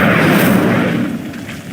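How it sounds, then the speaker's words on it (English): An Incendio fire spell sets a pyre ablaze in the video game Hogwarts Legacy, a loud whooshing, roaring burst of flame that fades slightly over under two seconds. "Levioso! Incendio! The flames make the pyre sink."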